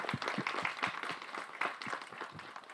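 Audience applause at a stage event for the Tamil film Thiru Manickam, a dense, steady crowd clapping with sharp individual claps throughout, fairly close and loud, no talk over it.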